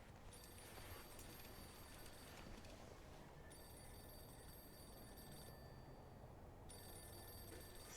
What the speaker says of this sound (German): So, Telefon läutet wieder mal.